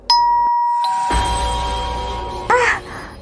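A doorbell rings with a loud two-tone ding-dong chime, followed by a sustained ringing tone and another bright chime near the end, all close and clear with no talking.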